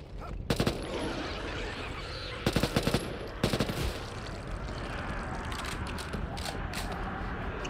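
A minigun fires in a video game, giving several short, loud bursts of rapid fire with mechanical clatter in between, set against a constant background rumble.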